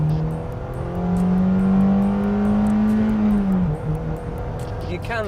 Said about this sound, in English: When you really start to rev the balls off of the thing, it really flies.